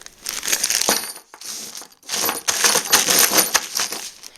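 Loose metal fasteners and large lock washers pour from a torn bag, making a continuous bright jingling clatter of small metal pieces piling onto one another, with a short pause midway before the spilling resumes.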